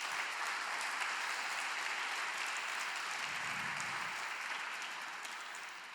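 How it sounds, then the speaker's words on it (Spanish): A church congregation applauding during a Spanish-language sermon, a broad, sustained roar of clapping from many people in a large room that slowly tapers off near the end. "Dele un fuerte aplauso al Señor"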